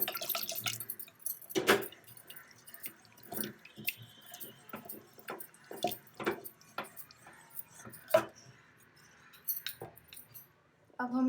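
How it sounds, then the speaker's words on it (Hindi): Black urad dal being stirred gently with a wooden churner (rai) in a pot, giving soft wet squelches and irregular clicking taps against the vessel, faint and close. "हम इसमें रई से मिलाएंगे इसको हल्के हाथ से एकदम, ताकि हमारी दाल अच्छे से मिक्स हो जाए"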